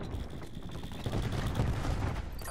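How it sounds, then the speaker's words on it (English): A cluster grenade bursting in Call of Duty Black Ops 4: a rumbling spread of overlapping blasts that swells in the second half, mid-distance and fairly loud, with no talk over it. "Cluster grenade."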